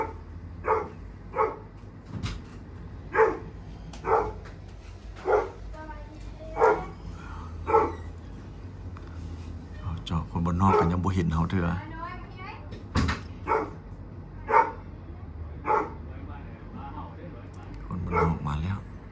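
A dog barks repeatedly in regular single woofs, roughly once a second, a short distance away, while a person talks in the middle.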